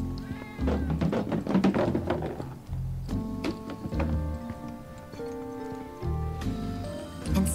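A cat meowing in the video game Final Fantasy VII Remake, several short mews over tonal game music with soft thumps and ticking steps.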